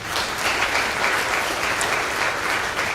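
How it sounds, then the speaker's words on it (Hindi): An audience claps loudly at a gathering, a dense, steady burst of applause that fills the whole moment without any speech. "सर के लिए एक बार जोरदार तालियां।"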